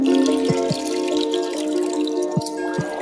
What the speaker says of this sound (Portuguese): Na panela eu vou colocar água fria.